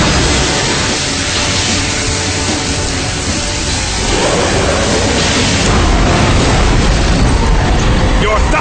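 A loud, sustained roaring explosion blast from the Magician of Black Chaos's Chaos Scepter Blast attack in a Yu-Gi-Oh! card duel, a dense wall of noise that swells midway and holds to the end.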